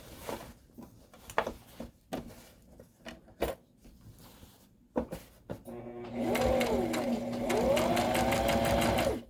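Sewing machine topstitching a tote bag, a few short taps and handling knocks and then a steady mechanical whir that runs close and fairly loud for the last few seconds, with slight changes in speed.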